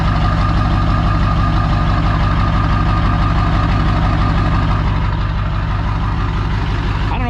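An OBS Ford pickup with a 7.3-liter diesel and stage 2 Colt camshaft idles loudly up close, with a steady, deep, rhythmic chugging that continues unbroken throughout.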